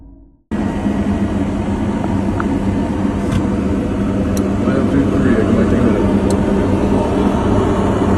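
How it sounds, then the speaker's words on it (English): An airplane making an emergency landing at Toronto Pearson International Airport in Canada, heard as a loud, steady engine roar that starts abruptly and continues throughout. "A shocking video from Toronto's Pearson's International Airport in Canada shows an insane turn of events during an emergency landing."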